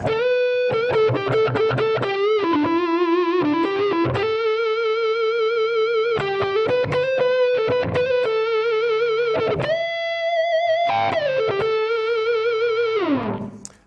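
An electric guitar runs through a Line 6 POD 2.0 amp modeler with reverb and thick distortion, playing a sustained, bending lead melody with held notes and quick runs, loud and unaccompanied, before cutting off at the end.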